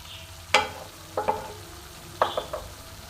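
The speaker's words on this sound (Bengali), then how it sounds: "আমি একটু ভাজা ভাজা করে নেবো।" Kashmiri chili powder and hot green chilies frying in oil while being stirred, a soft sizzle broken by a few sharp scraping clacks of the spoon against the pan, close and without speech.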